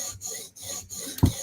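A sharpening stone on a TSProf Kadet guided sharpener strokes along a knife edge, three short close raspy passes followed by a brief louder knock.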